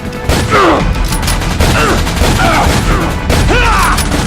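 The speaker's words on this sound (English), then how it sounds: "They're not gonna stop firing." Sustained gunfire fusillade in an audio drama, loud and continuous through the whole span with repeated bursts, heavy booms and mechanical clatter.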